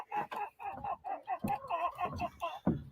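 Chickens in a coop cluck in short, repeated bursts close by, a busy rhythmic chatter of several birds with one louder squawk near the end.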